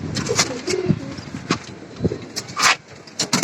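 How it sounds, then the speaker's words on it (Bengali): Pigeons coo in a loft, with soft, overlapping murmurs close by that are broken by wing flaps and scuffling movements, and no one speaks. "দেখা যায় কত সুন্দর কবুতর।"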